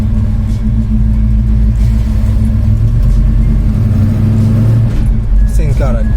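A 600hp Chevelle SS V8 rumbles loud and steady from inside the cabin as it pulls away with the windows down, a deep continuous drone throughout, with people talking over it.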